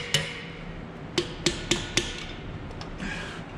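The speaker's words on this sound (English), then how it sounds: "I will take a mallet, hammer, whichever you can, and go through and smack the top of the valve" Mallet or hammer blows striking the tops of valve springs on a GM Gen IV LS engine to seat the keepers, giving a single sharp metallic knock followed by four quick knocks in a steady rhythm, close and clear with no talk.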